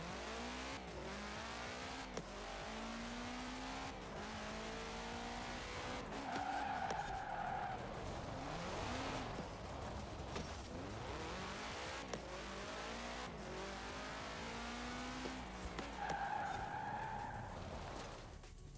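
Car tires squeal and skid repeatedly in Forza Horizon 4, with a continuous engine drone under long, wavering screeches that rise and fall over nearly twenty seconds.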